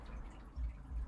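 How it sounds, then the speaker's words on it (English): Water trickles from a small backyard waterfall, a faint, soft drip and splash playing quietly in the background with a low hum underneath. "So if you hear the trickling of the water in the background while I'm filming, I got the waterfall running."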